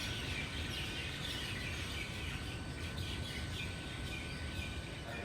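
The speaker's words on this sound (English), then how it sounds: "in the early morning hours, the birds are even louder than the sounds of the airport." Birds chirp and sing steadily in a garden at Honolulu airport in the early morning, a dense busy chorus of calls heard alone over a low, constant background hum.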